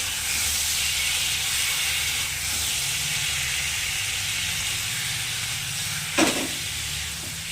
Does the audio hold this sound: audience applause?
no